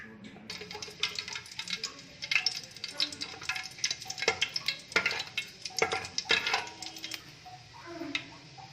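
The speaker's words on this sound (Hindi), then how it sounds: "घी अच्छी तरह से गर्म होके तो इलायची के दाने ठीक से फ्राई हो चुके हैं।" Cardamom seeds fry in hot ghee in a pan, giving close, irregular crackles and popping bursts over a soft background sizzle.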